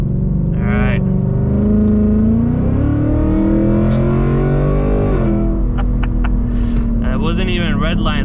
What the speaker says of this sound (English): Exhaust sounds so good with these long tube headers on this Mustang.